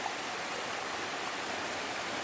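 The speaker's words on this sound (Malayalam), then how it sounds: "ആർട്ടിഫിഷ്യലായിട്ടുള്ള വെള്ളച്ചാട്ടം ഉണ്ട്." Small artificial waterfall at Poomala dam, water spilling over a built wall: a steady, dense rush of falling water, continuous and fairly close, with no voices over it.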